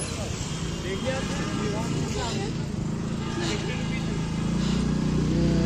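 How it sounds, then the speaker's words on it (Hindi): Road traffic in Nainital near the lake, a steady hum of cars and motorbike engines passing close by, swelling toward the end, with someone talking over it. "तो देखिए इस समय कुछ यहाँ पे इतना ट्रैफिक है।"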